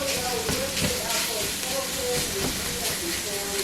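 Ground beef hitting a hot pan and sautéing with sautéed vegetables for taco soup, a steady loud sizzling hiss throughout with faint scraping and a voice talking over it.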